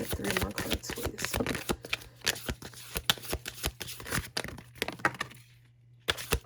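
Tarot cards being shuffled and drawn in a home reading, a run of crisp card snaps and riffles with short pauses, close and moderately loud over a steady low hum.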